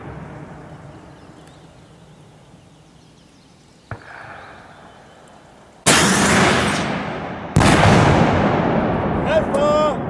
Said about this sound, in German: Achtung, Panzerfaust schießt!